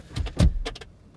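An Audi S8 car door soft-closing, heard as a few quick close thumps and short mechanical whirs from the latch pulling the door shut, loud and near.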